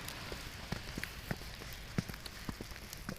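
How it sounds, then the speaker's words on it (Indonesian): Sleety snow-rain falling outdoors, a soft steady hiss with scattered irregular drips and taps landing close by, with no voices. "Hujan salju."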